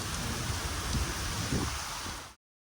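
Steady rain hisses evenly for a couple of seconds, a dense wash of drops with no voices, then the sound cuts off abruptly.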